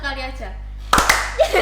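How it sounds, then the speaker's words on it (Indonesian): A brief burst of applause, a few quick claps, follows a steady hum and talk at a podcast recording. "Tepuk tangan."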